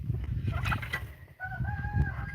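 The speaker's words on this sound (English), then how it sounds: "We've got nosy turkeys." Close-up gobbling and clucking from turkeys, a mix of low chatter with a brief higher call over it.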